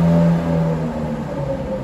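A Ferrari F430 Spider sports car drives by in a Monaco parking area, its engine a steady, fairly loud harmonic drone that fades gently as it passes.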